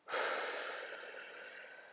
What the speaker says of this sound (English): Make sure we're breathing deeply